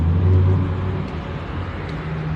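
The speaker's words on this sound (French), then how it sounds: "Huracan qui passe là-haut en vert" A green Lamborghini Huracan Evo Spider cruises past on a street in Monaco, its engine a low steady drone that swells briefly and then eases off at a moderate distance amid faint traffic.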